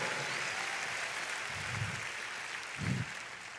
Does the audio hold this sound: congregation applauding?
yes